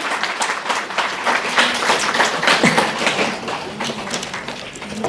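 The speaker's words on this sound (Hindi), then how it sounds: "तालियां बजाते रहो भाई" An audience keeps up steady, sustained clapping at a Swadeshi health-awareness seminar, a dense close wash of hands with a few louder thumps, barely any voice over it.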